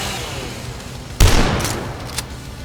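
A single powerful weapon blast in the shooter Dusk hits suddenly after quiet ambience, a heavy boom with a decaying tail, followed by a softer second crack.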